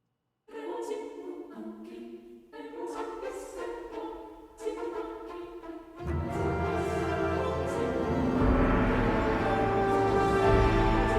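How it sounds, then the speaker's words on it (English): Orchestral sample library strings playing a line of short staccato notes in separate phrases, after which a fuller, denser string texture swells in and sustains, close and clear with no talking. "And at first I had it on staccatos, which sounds like this."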